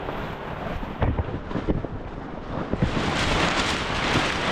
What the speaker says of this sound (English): We got a storm coming.